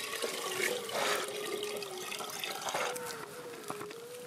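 Water splashes and trickles as it is poured in a cold mountain nomad camp, a soft, close, continuous gurgle with a few sharper spatters, quiet and uninterrupted by voices.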